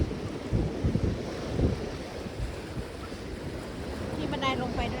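Strong, steady wind buffets the microphone at the sea in Denmark, a continuous roar with waves washing underneath and no pauses.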